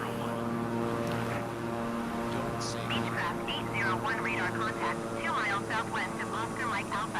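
A Beechcraft propeller airplane in a video game drones steadily through a dive and pull-up, its engine tone holding under excited talking.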